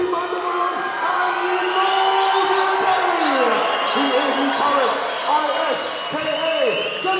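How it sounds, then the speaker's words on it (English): Crowd at the Roar kickboxing fight night between James O'Connell and John Haggerty, a sustained roar of cheering and whoops from a packed venue, loud and continuous beneath a commentator talking. "The crowd are going nuts."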